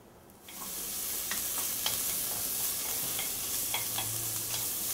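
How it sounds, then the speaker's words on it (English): Onion for chow fun hits a hot pan and bursts into a loud, steady sizzle, with occasional light clinks of stirring over the continuous frying hiss. "Now I fry my onion."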